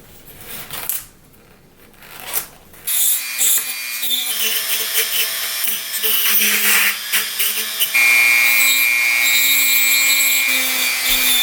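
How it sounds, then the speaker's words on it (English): A Dremel rotary tool whines at high pitch in bursts and then steadily as it carves features into a foam Halloween tombstone, after a few seconds of softer handling and rubbing noises. "I'm going to use a Dremel, right? And I'm just going to carve the eyes out, the nose, the teeth"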